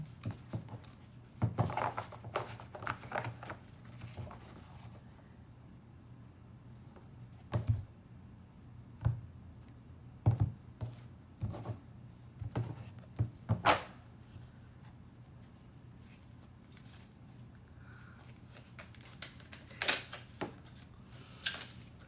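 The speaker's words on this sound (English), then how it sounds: "I always have difficulty shuffling this deck because it's bigger than me" Soft, irregular riffling and tapping of a large tarot deck being shuffled, with scattered clicks and slaps repeating over a long stretch, fairly quiet and close.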